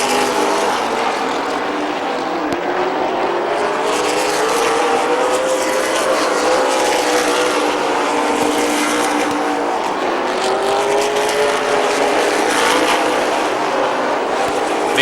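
Race cars lap Midvale Speedway in a continuous loud engine roar that swells and recedes as cars pass, with revving and occasional tire noise.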